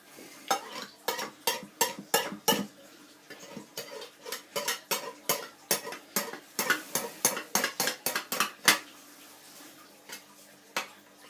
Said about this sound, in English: Okay, clean my knife.